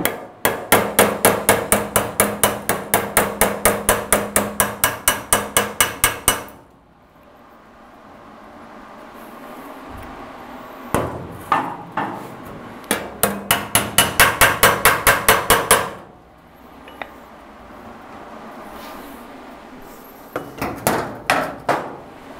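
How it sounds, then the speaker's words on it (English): A hammer and dolly strike car body sheet metal on a 1936 Ford Roadster in bursts of rapid, ringing metallic blows, loud and close, separated by pauses and a few scattered single taps. "after I hit it quick just with a hammer and dolly"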